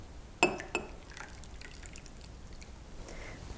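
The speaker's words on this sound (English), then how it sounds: "Alrighty, so we are gonna add some of that hot espresso that we just made before starting." Hot espresso poured into mugs of almond oat milk for a pumpkin spice latte: two sharp glassy clinks or drips near the start, followed by a soft, quiet liquid trickle, with no talking.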